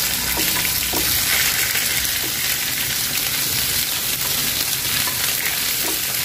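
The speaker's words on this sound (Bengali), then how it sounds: "আদা রসুন বাটা দিয়ে একটুখানি নেড়ে নিচ্ছি সব কিছু।" Onions, green chilies and ginger-garlic paste fry in hot oil with a loud, steady sizzle, interrupted by occasional soft scrapes and clinks as the mixture is stirred in the pan; no one talks.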